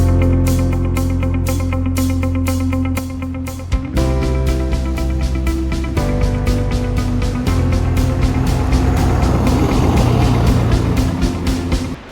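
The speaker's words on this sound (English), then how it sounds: "There's a few cars coming in and out." Cars move in and out of the Neches Bluff campground in Texas: steady engine hum with a rising and falling pitch, loud and close, with no talking.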